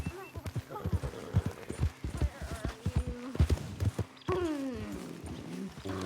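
Horse hooves clopping in the video game Red Dead Redemption 2, an uneven run of thuds with a player talking over them and game sounds, including a rising animal-like call near the end.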